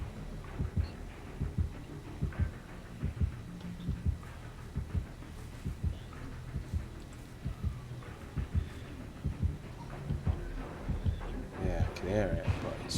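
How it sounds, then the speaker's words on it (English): Faint, rhythmic thumping heartbeat signalling a nearby killer in the video game Dead by Daylight, pulsing steadily at low volume beneath ongoing talk and scattered game noise. "The heartbeat's faint."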